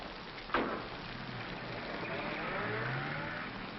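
Rain falls as a car engine rumbles close by on a wet street in a 1947 film scene, with a brief knock near the start and the engine note swelling and rising toward the end, without speech.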